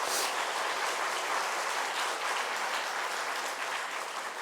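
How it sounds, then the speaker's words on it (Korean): Steady applause from a church congregation during an afternoon worship service, a dense wash of clapping held at an even, moderate level throughout. "우리 다시 한번 귀한 말씀 전해주신 이상호 교수님께 큰 박수로 함께 축복하겠습니다"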